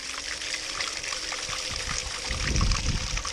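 Water running steadily through a two-tier highbanker loaded with material for gold prospecting, a continuous close splashing trickle that grows slightly louder and heavier toward the end, with no talking.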